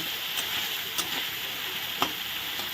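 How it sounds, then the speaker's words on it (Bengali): Spice paste frying in oil, giving a continuous bright sizzle with a few light stirring taps, close and steady throughout. "মশলাটা আমার ভালো করে কষানো হয়ে গেছে আর তেলও ছেড়ে দিয়েছে"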